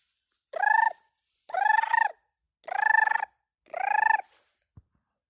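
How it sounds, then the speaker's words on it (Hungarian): Turkey gobbling four times in a row, loud and close, each call a burst of rapid rattling notes with short pauses between, heard on a farm beside a fountain with no talk. "ott a pulyka"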